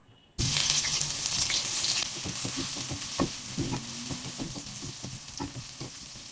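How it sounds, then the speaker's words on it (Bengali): Chopped onions drop into hot oil in a wok and burst into a sudden loud sizzle, which settles into steady frying broken by repeated scraping stirs. "এবার একটা কড়াইয়ে তেল গরম করে তার মধ্যে দিয়ে দেবো পেঁয়াজ কুচি।"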